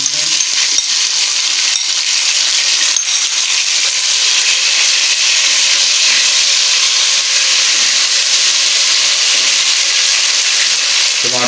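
Tomatoes hiss and sizzle steadily in hot oil after being added to onions fried golden brown in a pan for vegetable pulao, a loud continuous bright frying noise with no talk.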